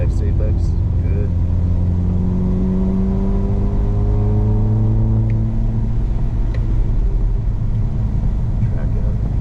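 A Mercedes SL45 on the Harris Hill Road race track drones steadily from the cabin, its engine pitch rising and falling under an instructor's ongoing coaching.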